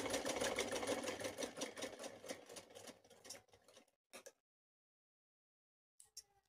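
Sewing machine stitching a seam on a suit, a steady rapid mechanical chatter for about four seconds, then stopping with a couple of short bursts and near silence.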